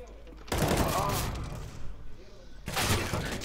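Gunfire in the video game Counter-Strike, two loud bursts of rapid shots, the first lasting about two seconds, with game ambience between and around them.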